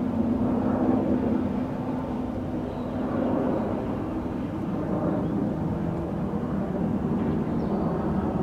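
A FedEx aircraft bound for Memphis moves at Tampa airport, giving a steady, fairly distant low jet rumble that holds evenly throughout with no voices.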